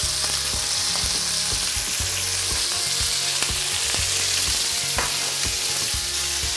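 A small piece of venison sizzles loudly in hot oil in a pan, a dense close crackle with rapid pops and a few brief utensil knocks.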